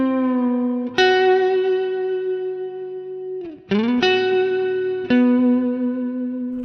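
Electric guitar through a Mooer preamp with a huge spring reverb and boost engaged, playing sustained, slightly distorted notes, each struck note ringing out long and lush, with three clear new attacks.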